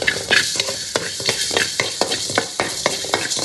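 Coriander seeds dry-roasting in a pan without oil, a close, crisp dry rattle and crackle as they are stirred in quick repeated strokes.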